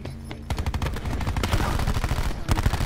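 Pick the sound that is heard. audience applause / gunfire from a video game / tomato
gunfire from a video game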